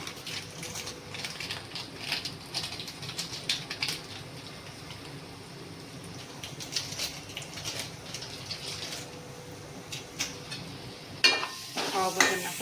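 Pav bhaji masala being stirred into a Mumbai-style bhaji simmering in oil, with soft scraping and intermittent spoon clinks against the pan over a faint low sizzle, growing louder near the end.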